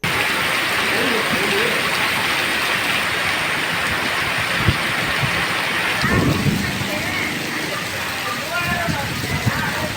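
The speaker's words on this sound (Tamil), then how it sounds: "1 மணி நேரத்திற்கும் மேலாக பலத்த இடி மின்னலுடன் கனமழை பெய்தது" Heavy rain pours down steadily in a thunderstorm that lasted over an hour, a dense, loud hiss throughout, broken by low thunder rumbles and cracks around the middle.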